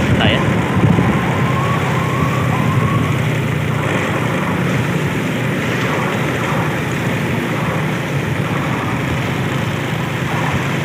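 An ambulance siren wails nearby over a steady roar of road traffic in Pontianak, West Kalimantan, with people talking now and then.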